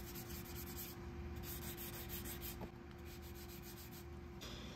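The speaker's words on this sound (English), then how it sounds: "wet sand this out until you don't hear that grittiness" Sandpaper wet sanding the clear coat on a 3D print, a soft continuous gritty rubbing in steady back-and-forth strokes, close and quiet, with no voices.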